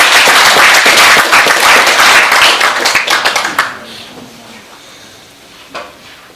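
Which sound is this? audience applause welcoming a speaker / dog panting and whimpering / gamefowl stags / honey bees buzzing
audience applause welcoming a speaker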